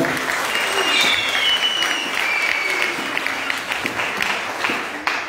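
A church congregation at a parish anniversary Mass breaks into loud sustained applause, dense clapping close and steady throughout, with a voice briefly audible over it.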